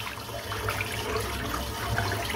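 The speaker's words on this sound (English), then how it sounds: "Just rinse the brush out because that's all that's left to do." A shaving brush rinsed under a running tap: a continuous splashing hiss of flowing water, steady and moderately close, with slight rises as the brush moves through the stream.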